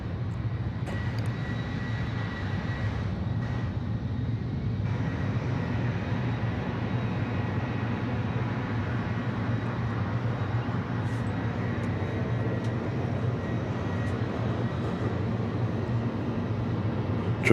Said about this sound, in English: I believe that's a 757